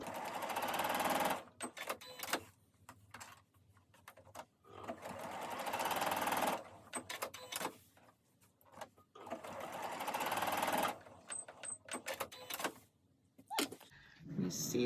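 A sewing machine stitches a fabric travel cup cozy in three long loud whirring runs separated by pauses, with a person speaking briefly in the gaps.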